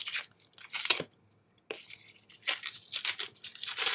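Cut paper or vinyl is peeled away in several short, close, crackly tearing strokes separated by brief pauses.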